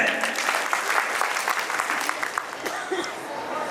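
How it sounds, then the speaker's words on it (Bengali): Audience at a company annual picnic stage event in a holiday park claps for a stage-decoration vendor, a thick burst of hands that tapers toward the end while a voice comes in briefly. "সুইফট সলিউশনের জন্য একটা করতালি হয়ে যায়।"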